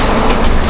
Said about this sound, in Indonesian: ada truk lewat teman-teman.